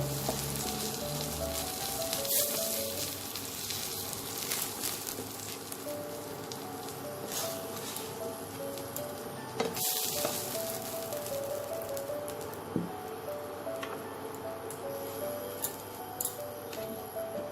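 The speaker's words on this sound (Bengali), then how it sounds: "বেগুনটা ভাজা হয়ে গেছে, বেগুনটাও তুলে নেব।" Brinjal fries in oil in a kadai with a steady, soft crackling sizzle throughout, punctuated by occasional small pops and ticks, fairly quiet and without talk.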